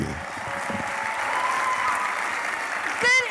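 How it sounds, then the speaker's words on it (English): An audience at the Elevate Daytona Beach stage applauds as a speaker is welcomed, a steady dense clapping wash with a faint tone through it and a brief voice at the very end. "Thank you for the round of applause."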